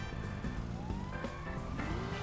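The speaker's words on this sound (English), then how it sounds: "I hear them damn sirens going off like crazy" A police siren in the game GTA wails with slowly rising tones, mixed with engine noise and scattered clatter; the whole scene sounds synthetic and busy.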